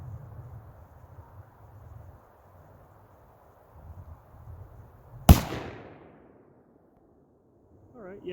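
A single sharp report from a Thompson Center Compass II .223 bolt-action rifle cracks out at a range partway through, then decays over a few seconds after a quiet, breezy stretch.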